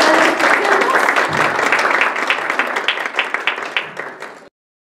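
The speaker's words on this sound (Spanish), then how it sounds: "Yo les voy a pedir un aplauso para esta mesa." Audience applause for a panel from a Mexican government underwater archaeology office, a dense steady burst of clapping from a crowd that thins into scattered claps before stopping abruptly.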